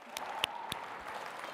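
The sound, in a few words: audience applause at charity auction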